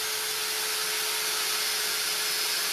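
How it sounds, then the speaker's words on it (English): A power drill with a metal bit bores into a cedar chest, giving a loud, continuous whirring grind with a steady tone and no pauses or talking. "now I got my hole started and my regular drill bit will work now"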